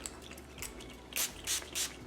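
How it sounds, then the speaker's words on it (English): Three quick hissing spray bursts of hair oil from a pump bottle into hands, close by, following a few softer squishy handling sounds. "So I just sprayed some into my hands."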